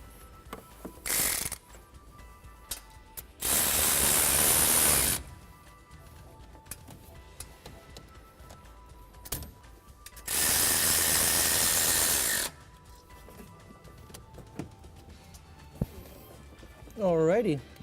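Header bolts are run down on an engine block with a power tool, heard as three loud, sustained bursts of whirring and ratcheting, separated by quieter clicks and handling of parts.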